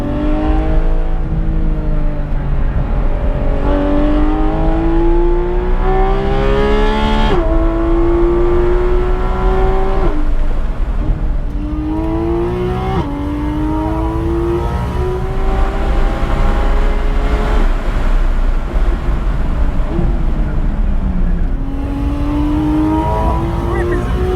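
A Porsche GT3 RS engine revs hard and repeatedly on a race track, climbing and dropping through gears, loud and close for the whole stretch.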